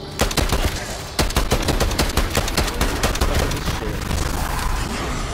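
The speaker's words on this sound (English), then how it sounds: "An SMG fits the bill. Quick and deadly." Rapid SMG fire in a round-based shooter video game crackles in dense, loud automatic bursts, with a short pause near the start and then a long sustained volley that thins out toward the end.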